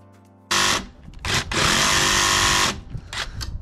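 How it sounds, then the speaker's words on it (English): A jigsaw cuts into the back of a Cali luxury vinyl floor plank in loud, close bursts. A short burst is followed by two longer runs and a few brief stutters, with no talking. "I'm going to try to take this jigsaw, and I'm going to just jig out the back of this thing."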